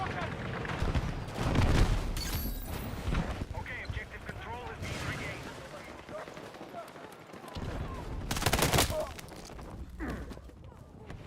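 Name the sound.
automated turret firing in Battlefield 6 video game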